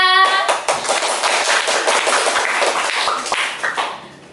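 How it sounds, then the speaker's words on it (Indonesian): Audience at SMA Negeri 1 Ngunut clapping for a guest teacher, a steady burst of many hands that starts abruptly, holds loud and even, then thins out and fades near the end. "Kita beri tepuk tangan semuanya"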